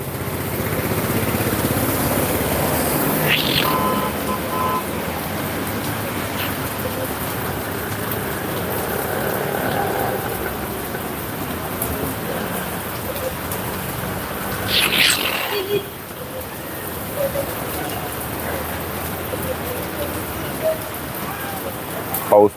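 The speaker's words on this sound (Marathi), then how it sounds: "पाऊस" Rain falls in a steady, broad hiss throughout, dense and continuous, with a brief louder gust near the middle and faint background sounds beneath, and a person talks over it at times.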